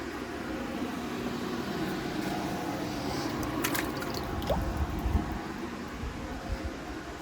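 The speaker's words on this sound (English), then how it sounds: "And I'm just going to water those in" Water pours onto potted Sedum 'Autumn Joy' plants, a steady close trickle and soft splash soaking into soil, with faint dripping toward the end.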